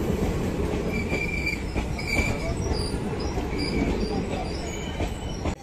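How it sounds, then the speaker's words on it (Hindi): A long train rolls into an Indian railway station, with a continuous heavy rumble of wheels on rails, rhythmic clatter and intermittent high-pitched brake and wheel squeals, loud and close throughout. "ये आ चुकी है ट्रेन"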